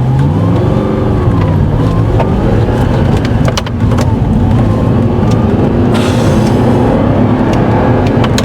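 An Audi R8 V8 sports car drives on smooth tarmac, its engine a loud, steady growl with rising and falling pitch as it accelerates, dense and continuous throughout with no talk.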